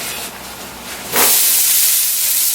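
Onions and peppers hit an oiled Blackstone flat top griddle, a soft hiss jumping into a loud, steady, close sizzle that carries on alone.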